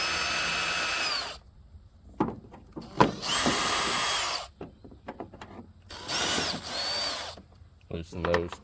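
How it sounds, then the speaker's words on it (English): A cordless drill loosens taillight bolts on a Dodge Ram 1500 in several short bursts separated by pauses, with clicks and rattles of parts being handled in between, close up. "I'm going to be using a drill to make it a little quicker."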